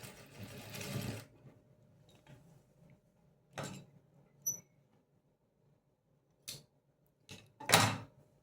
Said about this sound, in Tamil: இப்போ வந்து பார்த்தீங்கன்னா தையல் போட்டுட்டேன்.